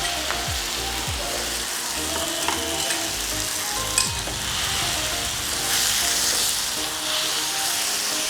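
Red gongura leaves frying with green chillies in a pan, a steady crackling sizzle under intermittent scraping and knocking of a stirring utensil, close and fairly loud without speech.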